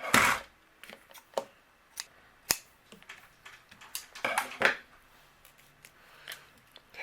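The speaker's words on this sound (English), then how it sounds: "and then I'll just trim the tails of it." Scissors snip the loose tails of twine on a handmade paper card, a series of sharp, close clicks and cuts spaced irregularly in a quiet room.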